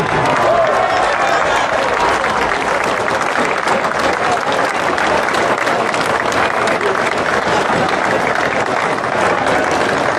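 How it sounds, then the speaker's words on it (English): Loud, sustained crowd applause at the Aintree Grand National, a dense wall of clapping with scattered cheers filling the whole stretch without a break. "How about a huge round of applause for trainer Willie Mullins?"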